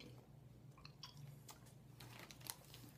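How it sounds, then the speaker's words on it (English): Salt water taffy being chewed, with soft, irregular sticky chewing and crinkly wrapper rustles repeating close to the mic over a low background hum. "Really hard to chew."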